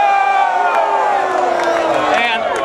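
A large rally crowd for Ron Paul in Washington, D.C. roars and cheers steadily, with whoops and shouts over a dense, loud wash of voices throughout.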